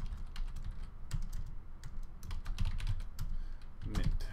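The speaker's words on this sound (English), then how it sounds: "I'm going to type some stuff in." Close, quiet typing on a computer keyboard, a run of irregular keystrokes and clicks at an uneven pace, with no talk.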